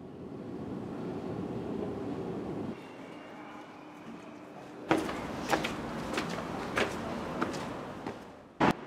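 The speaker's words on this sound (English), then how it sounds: "You can catch the Blue Line train to Solna Centrum." A Stockholm Blue Line metro train rumbles steadily in a station, then quiets before a series of sharp clanks, knocks and door-like thuds ring out at irregular intervals close by.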